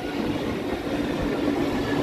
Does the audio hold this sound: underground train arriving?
yes